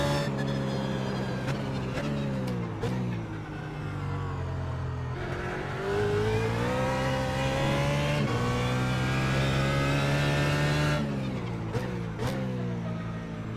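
A BMW GT3 race car engine in iRacing at Oran Park revs hard, rising and falling through the gears with a loud, continuous sustained tone and short lifts between pulls.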